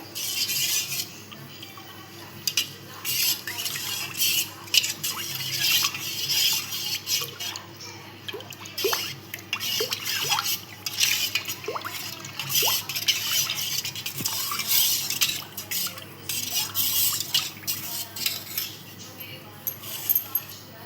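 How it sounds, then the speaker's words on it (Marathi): Coriander sherbet being stirred in water, with soft swirling and light clinks of a spoon against the vessel, close and fairly quiet, with no talking. "चांगलं ढवळून घेऊया आपण."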